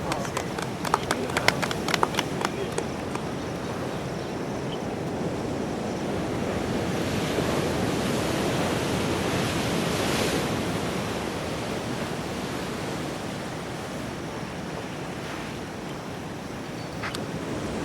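Atlantic Ocean surf washes steadily onto a beach in Ghana on a morning shore, a broad continuous roar of breaking waves with a few sharp clicks and knocks near the start.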